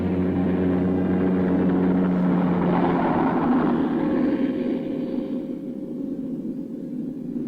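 A helicopter in flight makes a continuous, heavy rotor-and-engine drone with a steady low hum, loud and close at first, then easing slightly softer toward the end.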